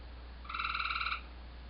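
A frog croaking at night, one rapid pulsing trill lasting under a second, loud and close over a steady low hum of background noise.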